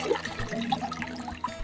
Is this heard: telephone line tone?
no